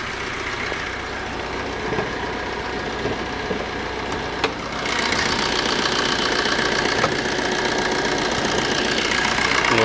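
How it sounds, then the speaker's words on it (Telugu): A car engine idles with the bonnet raised, a steady mid-pitched rumble with a faint ticking clatter that grows slightly louder partway through, heard up close with no voices. "మీకు ఇంజన్ బానెట్ సౌండ్ లేపి చూపిస్తా"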